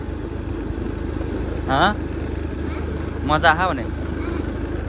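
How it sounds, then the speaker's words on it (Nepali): Small scooter engine running steadily at low revs as a young boy rides it, a constant near drone under two short bursts of speech. "यसले चलाइरहेको छ स्कुटर चाहिँ"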